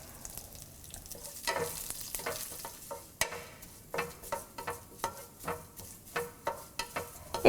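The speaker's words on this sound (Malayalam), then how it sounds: "നമ്മൾ എടുത്തു വെച്ചിരിക്കുന്ന കറിവേപ്പിലയും വറ്റൽമുളകും ഇട്ട് വഴറ്റുക" Curry leaves, dried red chillies and onion sautéing in a pan over low flame, a series of spatula scrapes and stirs that grow into a regular rhythm over a soft background sizzle, close by.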